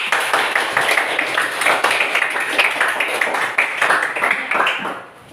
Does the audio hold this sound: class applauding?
yes